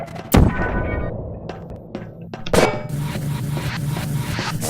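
Weapon fire in Portal on a Hammer-built test map: two sharp, loud blasts about two seconds apart over a hum of game ambience, followed by a brighter buzzing wash.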